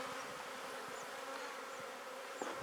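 Honeybees buzz steadily at an open hive a week after a colony split, a dense continuous hum of many bees close by with no voices.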